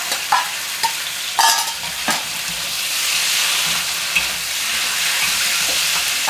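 Garlic and pork stir-fry in a little oil in a wok over high heat, a steady loud sizzle and hiss with a few sharp scrapes of the spatula near the start, close by.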